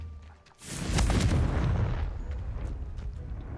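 A Confringo blast spell goes off in Hogwarts Legacy: one loud, close boom that bursts suddenly and then rolls into a long, rumbling decay, with no voices over it.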